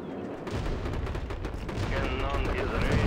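Soviet guns in a real-time strategy war game fire in a dense, continuous barrage of overlapping cannon and gunfire blasts, rumbling and crackling throughout, fairly quiet in the mix.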